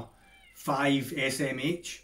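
A pet cat meows repeatedly outside a window, pleading to be let in through the door, its cries close and fairly loud over about a second and a half, and a person's voice is also audible.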